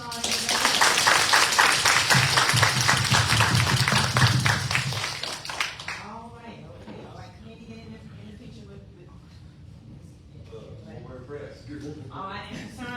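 Audience applause breaks out at a Mulberry, Florida city commission meeting, loud and dense for about five seconds. It then fades into quieter room noise and murmuring.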